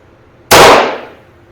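A single close, loud gunshot from a 1926 Hartford Arm & Equipment Company single-shot .22LR target pistol at an outdoor target, a sharp crack with a short decaying tail and no talk.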